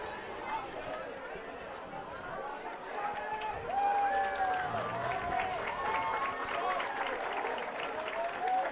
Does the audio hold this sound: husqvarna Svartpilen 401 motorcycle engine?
no